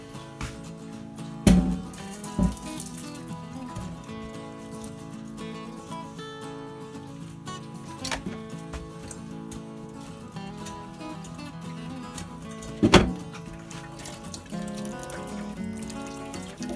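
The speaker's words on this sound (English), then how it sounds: "So we're gonna go ahead and stop this and get it strained out." Cooked elderberry syrup liquid poured and strained through a metal strainer, faint trickling with a few sharp clinks, over a soft music bed.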